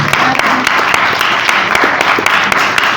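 Loud, dense applause from a church congregation, a continuous roar of clapping with a few sharper individual claps standing out.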